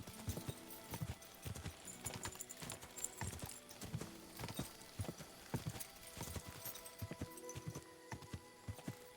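Horse hooves galloping in the video game Kingdom Come Deliverance II, a rapid steady clip-clop rhythm that stays loud and close throughout, with a faint whinny and no talking.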